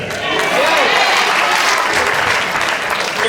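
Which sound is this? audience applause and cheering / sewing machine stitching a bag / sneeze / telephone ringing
audience applause and cheering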